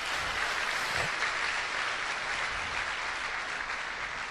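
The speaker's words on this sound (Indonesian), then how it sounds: "Beri aplaus buat Pak Teddy." An audience applauding for Pak Teddy at a motivational talk, a steady, dense roar of clapping that holds at full strength throughout, with no speech over it.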